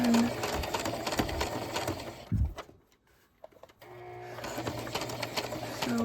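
Sewing machine stitching fabric for a rope ghost, a steady close mechanical hum that stops briefly midway, then resumes for the rest of the clip.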